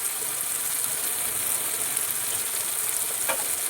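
Turmeric, chili and cumin powder frying in a pan for a raw tomato chutney: a continuous bright sizzle with light scraping from stirring, fairly close and steady, with no talk.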